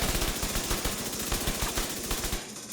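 Rapid gunfire from a Back Fire build weapon in the video game Division 2, a loud continuous stream of close shots that stops abruptly near the end.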